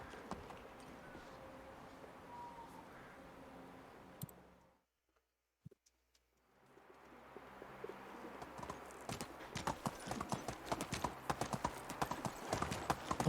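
Horse hooves clip-clop in a medieval video game while riding, starting faintly, cutting out briefly to silence, then returning as a brisk, close, steady gait rhythm with faint bird sounds.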